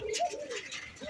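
High-flying pigeons give a short, soft, low coo nearby, with no other sound around it.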